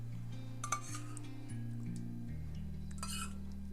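A spoon clinks and scrapes against a pan while a banana sweet is stirred with jaggery. The taps are light and irregular, with a few louder metallic knocks, over steady background music.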